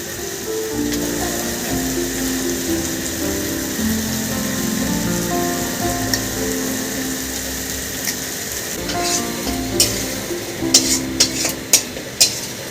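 A paste of ginger, tomato, green chili and cashew fries and is stirred in a pan for dhaba-style paneer masala. A steady sizzle runs throughout, and sharper scrapes and clinks of the spoon come near the end.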